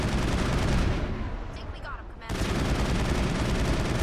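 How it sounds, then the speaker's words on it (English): Rapid bursts of gunfire blast VI conduits in Mass Effect 1 on the moon base Luna, a dense, loud barrage that drops off briefly in the middle before resuming at full force. "and then proceed to blow up the VI conduits"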